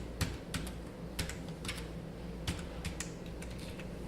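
Codes are typed into an Excel spreadsheet on a computer keyboard, with close, irregular key clicks and a few louder taps in an uneven rhythm over a steady low background hum.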